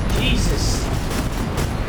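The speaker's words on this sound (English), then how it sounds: "Explosions everywhere." Explosions boom across a World War I trench in the VR game War Remains, a dense, loud rumble of blasts filling the scene while someone speaks over them.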